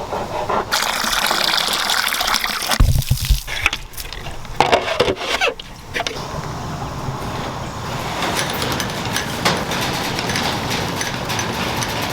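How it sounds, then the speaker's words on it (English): A garden hose runs on a farm while filling water for the animals, giving a steady hiss and gush throughout with some louder splashing and knocking midway, close and continuous. "I'm gonna turn the hose water off now"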